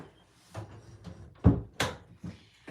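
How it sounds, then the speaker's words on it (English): Indoors, a door is pushed shut with a handful of bumps and thuds, one firmer knock standing out among the softer handling sounds, and no talking. "Let me shut my door."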